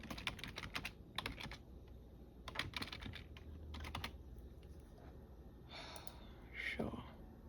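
Someone types a password on a computer keyboard, producing quick clusters of close clicking keystrokes in short bursts, followed by audible breathing and a sigh, with no speech during the typing.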